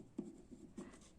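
Pen or chalk writing during a maths lesson, a few faint scratchy strokes, two short clusters in just over a second, soft and close in a quiet room.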